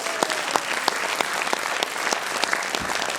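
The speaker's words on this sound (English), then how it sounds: "Give them a round of applause as they head back to their seats." An audience applauds a comedy chair-routine act as volunteers return to their seats. Brisk, moderately loud clapping with distinct individual sharp claps stands out from the crowd, steady throughout the short stretch.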